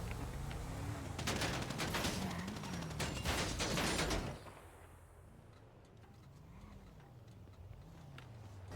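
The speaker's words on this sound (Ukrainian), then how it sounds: "А чого ви стріляєте?" Rapid bursts of gunfire in a GTA roleplay game crackle loudly for several seconds, then stop abruptly, leaving a low engine hum and faint ticking.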